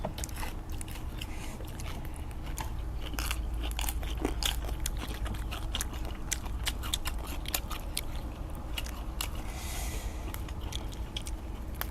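Close, steady crunching and biting of crispy pork rind eaten with spicy Thai papaya-style salad, dense crackly chews repeating throughout with no talk.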